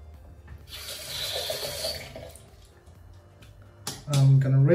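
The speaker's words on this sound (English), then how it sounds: "I'm gonna rinse off my face, lather up quickly for a second pass." Bathroom tap water running into a sink while a man rinses his face after a razor shave, a splashy rush in bursts with a loud surge of flow near the end.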